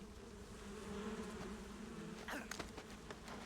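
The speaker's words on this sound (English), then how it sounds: "There's way too many bees on us." A swarm of bees buzzes in the video game Metal Gear Solid 3, a steady droning hum with a sharper burst of buzzing near the end.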